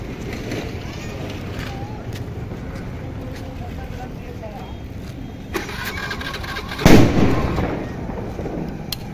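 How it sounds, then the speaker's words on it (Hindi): A Diwali firecracker bursts with one sudden loud bang near the middle, and a short decaying rumble follows it. Steady outdoor background noise runs underneath, and a few voices are faintly present. "छोटू का बम देखते हैं फटता है"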